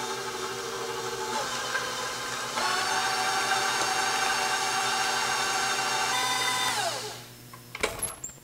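Electric hand mixer whipping mashed potatoes with a stick of butter and a splash of milk, a steady close motor whine that rises in pitch partway through, runs several seconds, then winds down and stops with a few clatters.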